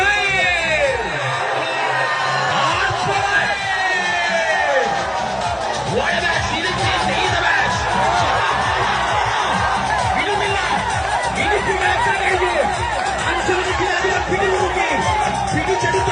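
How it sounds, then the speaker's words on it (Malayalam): Large outdoor crowd at a tug-of-war match on the sands of Erinjipuzha, Kerala, keeps up a steady, dense roar of cheering, whooping and clapping throughout, with an announcer's voice over the noise. "കൈയടിക്കാം പ്രിയമുള്ളവരെ,"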